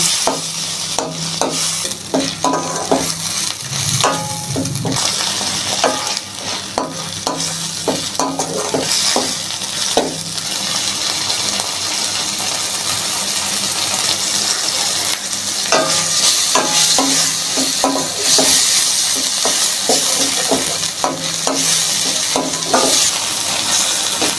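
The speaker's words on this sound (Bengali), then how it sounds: "এখন চিংড়ি মাছটা দিয়ে আরেকটু ভালোভাবে কষিয়ে নেব।" Small prawns stir-fried in a pan, a loud continuous sizzle with rapid, repeated clinks and scrapes of a spatula against the metal throughout, close and busy with no talking.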